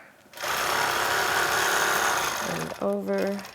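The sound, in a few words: sewing machine stitching quilt fabric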